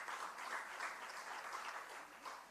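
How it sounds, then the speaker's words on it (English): A town hall audience applauds steadily, a dense wash of clapping that holds for a couple of seconds and tapers slightly at the end. "So give yourselves a round of applause."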